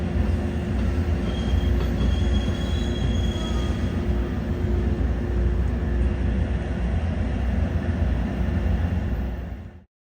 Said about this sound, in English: double stacks from Southern California break an early morning silence with 4 Armor Yellow Union Pacific motors charging eastward